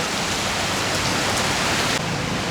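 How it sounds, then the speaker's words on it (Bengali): Heavy rain pours down in a dense, unbroken roar of drops, loud and close, with no voices. "অনেক বৃষ্টি অনেক বৃষ্টি সারা রাত বৃষ্টি হয়েছে"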